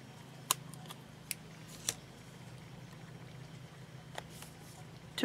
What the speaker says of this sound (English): let me get my detail scissors. I'm going to cut one in half